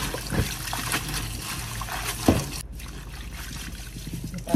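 Young cassava leaves are washed by hand in water. Close, continuous trickling and sloshing are broken by a couple of louder splashes.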